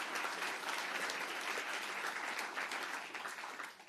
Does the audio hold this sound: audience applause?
yes